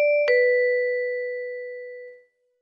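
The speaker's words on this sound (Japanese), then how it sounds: "いきなり家のチャイムが鳴る。" A two-tone doorbell chime rings once, a bright ding followed by a lower dong that slowly fades out.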